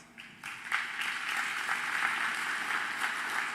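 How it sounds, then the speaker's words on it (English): Warm audience applause at a State of the City event, swelling quickly into a continuous, even patter of many hands across a large room. "So you all deserve a nice warm round of applause."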